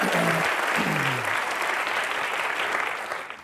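A studio audience at a comedy show applauds for Anupam Kher, a dense burst of clapping that swells and then gradually fades, with a voice speaking briefly over the start.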